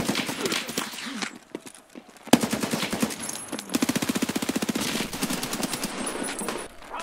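Rapid bursts of 7.62x39 rifle fire in Escape from Tarkov Arena, sharp repeated shots in quick rhythmic strings with brief pauses between, fairly close and loud.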